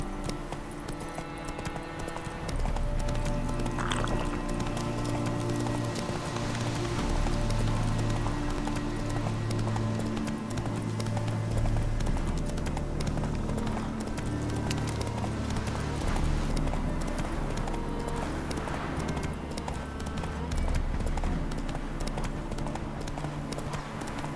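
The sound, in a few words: horse galloping hooves in the video game The Witcher 3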